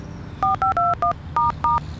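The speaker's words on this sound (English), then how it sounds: "Zach turned to his phone and dialed the number of his best friend and older brother, Theo." A telephone keypad dials a number, a quick run of six crisp DTMF beeps in two clusters, loud and close over a faint background hum.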